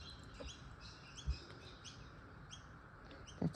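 Faint, sparse bird chirps in the early morning, a few short calls spaced a second or so apart over a soft, steady background hiss.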